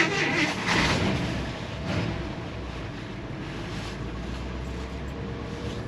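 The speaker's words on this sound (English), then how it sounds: "Good running motor." A 1954 Buick Century's nailhead V8 idling, a steady low rumble under wind and broadband noise that swells slightly in the first two seconds and then holds even.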